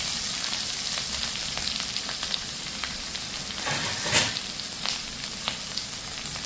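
Taro pieces dropped into hot oil in a frying pan for Kerala aviyal, a loud continuous sizzle with small crackling bursts throughout, close and alone.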